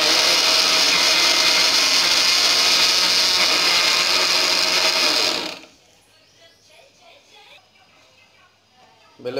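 A mixer grinder whirs loudly and steadily for about five seconds while sweets are made at home with cardamom, then stops, leaving quiet room sound.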